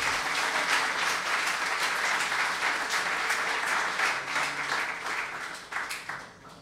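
A church congregation applauds to welcome first-time visitors, a loud, dense wash of many hands clapping that holds steady for several seconds before thinning out and fading toward the end.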